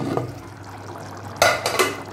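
A metal pressure cooker lid is set onto the pot of mutton biryani, giving a short clatter of two or three close metallic knocks after a quiet stretch.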